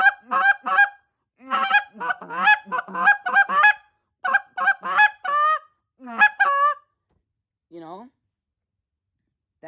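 A goose call sounds off in quick clusters of loud, sharp honks and clucks, then falls silent before two lone honks trail off.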